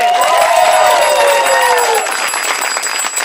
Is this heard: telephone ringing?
no